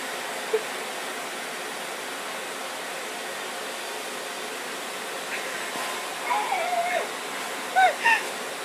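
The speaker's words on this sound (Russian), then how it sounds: "Смотри, как пылесос пылесосит" A household vacuum cleaner runs in a room with a constant, even whooshing drone, and faint voices and a few brief sounds come through near the end.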